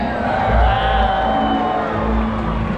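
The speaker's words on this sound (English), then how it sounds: "When you see him, give him a big cheer." A SeaWorld killer whale show audience whoops and cheers, a loud, sustained crowd roar filling the stadium with shouts mixed in throughout.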